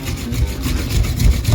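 Rust being scrubbed off a Chevy Tracker strut, a steady close-up rough rubbing and rasping with continuous back-and-forth scraping and no talk.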